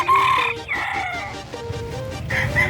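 Chickens at the San Carlos City livestock market in Pangasinan, with a rooster crowing up close alongside clucking fowl against busy market background noise.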